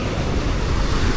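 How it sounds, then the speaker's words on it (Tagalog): Rough sea surf and strong wind buffet the microphone on a Pacific shore during monsoon conditions, a loud, continuous wash of noise with no distinct voices. "Ganda sana ng dagat dito, kaso lang maalon."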